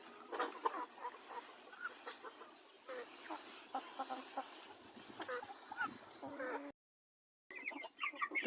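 Young chickens, grown chicks on a farm, cluck and cheep in a busy, scattered chorus close by, with a short silent break near the end before the calls resume.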